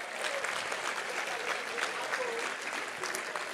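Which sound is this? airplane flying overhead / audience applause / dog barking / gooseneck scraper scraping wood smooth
audience applause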